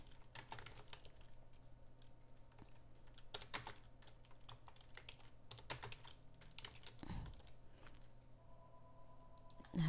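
Steady typing on a computer keyboard while a women's cut and shampoo service is entered into a salon service menu, a continuous patter of close keystrokes over faint room hum with no speech.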